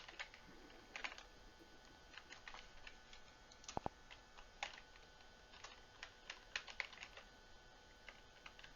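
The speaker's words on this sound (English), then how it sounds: "Then he enters in his password." Keystrokes on a computer keyboard as a password is entered: sparse, irregular clicks in small bursts, fairly faint and close, with no voices.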